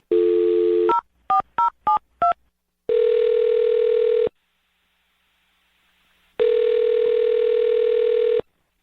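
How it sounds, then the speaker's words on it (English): A telephone is dialed with a quick run of touch-tone beeps, followed by two long electronic ringback tones separated by a silent gap, loud and clean with no talking. "I'm going to dial his phone number right now, okay?"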